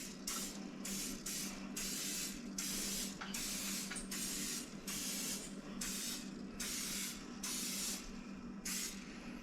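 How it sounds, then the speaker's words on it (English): Cooking spray hisses onto silicone muffin cups for taco cups in a long run of short, close bursts, roughly a dozen sharp sprays separated by brief pauses. "But I'm still going to spray it nonetheless."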